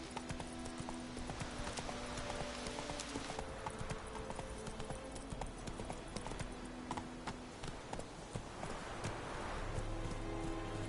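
Roach the horse gallops in The Witcher 3, a steady run of hoofbeats under a dense, noisy backdrop of rain-like hiss and ambient game sound.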